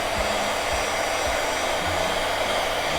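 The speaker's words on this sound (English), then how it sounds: "If you've got a heat gun, you can quickly dry your projects" A Chandler Tool heat gun blows hot air to dry an airbrush project, a loud steady rushing whoosh with a low motor hum throughout, close and without any voices.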